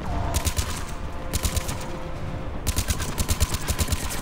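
Rapid battle rifle fire crackles in Mass Effect 3 over a dense combat din, coming in repeated quick bursts with a pulsing low thump beneath them.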